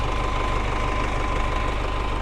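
A tractor engine runs on a farm beside a greenhouse, producing a loud, steady, close diesel chug with a rapid knocking pulse and constant vibration, alone with no talk.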